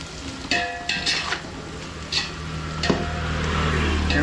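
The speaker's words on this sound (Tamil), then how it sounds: "ஒரு 10 செகண்ட்ஸ் மட்டும் இந்த மாதிரி நல்லா வதக்கிடுங்க" Ingredients for a chicken biryani sautéed in a pan: steady low sizzling under a constant background hum, broken by several sharp scraping and clattering strokes of a spoon against the pan.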